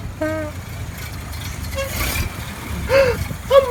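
A motor car passing close by in an animated storybook scene, with short horn toots, an engine rumble swelling and fading, and a voice speaking over it.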